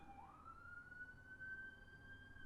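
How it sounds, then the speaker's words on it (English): A faint, distant siren wails with a slowly rising tone over low background rumble, heard from a home in a small rural town. "sirens"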